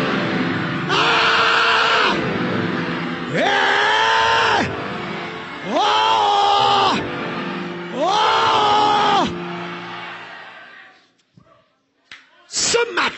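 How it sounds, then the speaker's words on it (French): A church congregation at a revival seminar shouts war cries in four long, loud, sustained unison cries with rising and falling pitch, each about a second and a half, then a short burst of noise. "Vous ne connaissez pas les cris de guerre ici?"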